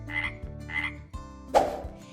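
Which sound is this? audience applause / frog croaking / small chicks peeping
frog croaking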